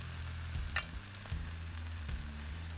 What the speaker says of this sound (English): we're just going to let these cook for a minute and let those corn tortillas get nice and crispy on the backside